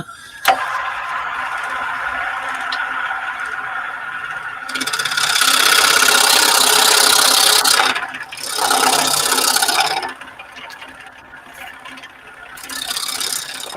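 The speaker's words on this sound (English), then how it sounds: "if anyone hears a rattling, it's my handle on the end here. It keeps coming loose" A wood lathe turns a winged bowl with a loose handle on the end, giving a steady mechanical whir and rattle, louder during bursts of cutting and then dropping back to a quieter spin.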